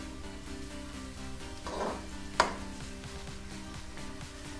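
Capsicum sautés briefly in a pan for bread patties, with a soft continuous sizzle, a light stirring swish, and one sharp spoon clink against the pan midway.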